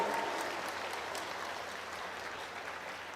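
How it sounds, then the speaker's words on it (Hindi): A church congregation applauds together during a Hindi sermon, a dense, steady wash of clapping filling the room and fading slightly toward the end. "जोर से ताली बजाकर तारीफ करो परमेश्वर की।"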